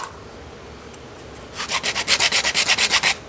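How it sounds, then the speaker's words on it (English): A lawnmower wheel part being sanded by hand, quiet at first, then about a dozen quick rhythmic back-and-forth rasping strokes, close and loud, with no speech. "Let's sand this down a little bit."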